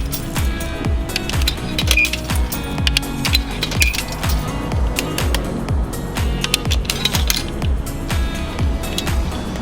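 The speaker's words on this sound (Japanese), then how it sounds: "ああ、アメリカの自販機" Coins clinking and rattling through a vending machine at a self-service car wash in the US, a rapid run of metallic clicks and clunks heard close up.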